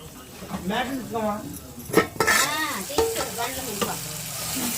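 Tomato and potato curry cooking in a pan, with steady sizzling and the scrape of a spoon stirring against the metal, while someone talks over it close by.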